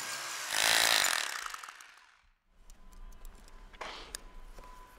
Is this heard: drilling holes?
yes